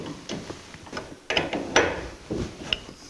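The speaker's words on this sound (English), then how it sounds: "Now, let's see if I can tighten this up." Steering adjuster being tightened on a 1949 Chevrolet gasser, a close series of irregular metallic clicks, ratcheting ticks and tool clanks spread over a few seconds.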